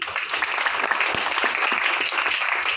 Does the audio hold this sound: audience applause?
yes